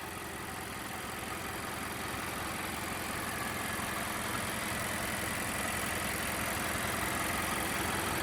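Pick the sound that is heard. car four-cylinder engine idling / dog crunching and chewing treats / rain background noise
car four-cylinder engine idling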